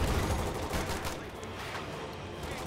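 Dense machine gun fire rattles in Company of Heroes 2, a World War II strategy game with US, Soviet and Wehrmacht forces, as sustained overlapping bursts with a gritty, continuous texture.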